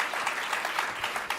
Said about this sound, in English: join me in a round of applause for our new Parks Commissioner, Tricia